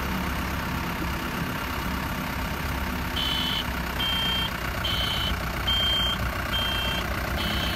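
Toyota 5FD25 forklift with a 1Z engine, 2.5-ton capacity, reversing under a heavy load of stacked bricks, its loud diesel rumble steady throughout while a repeating reversing beep sounds about six times.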